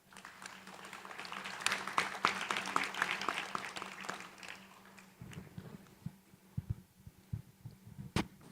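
An audience at the 2023 Indonesia International Conference for Sustainable Finance and Economy applauds after a panel: a dense, steady round of clapping for about five seconds, then thinning to scattered individual claps.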